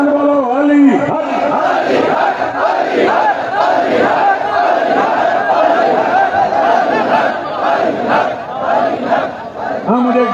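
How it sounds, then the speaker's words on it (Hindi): A large crowd at a Shia majlis in Tando Adam, Sindh, shouts a rhythmic religious slogan in unison, loud and close, with repeated swelling chants over a steady roar of voices. "जवान बोलो अली हक"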